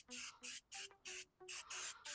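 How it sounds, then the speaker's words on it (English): Adams Polishes In and Out spray mists onto a car grille in short bursts, six or seven close hissing sprays in quick rhythm with brief gaps of quiet between them. "I like using Adams Polishes, their in and out spray"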